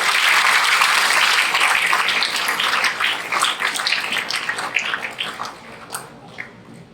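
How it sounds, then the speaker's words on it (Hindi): A seminar audience applauds loudly at a success-focused event, with dense, sustained clapping that gradually thins into scattered claps toward the end. "से जोरदार तालियां हो जाए।"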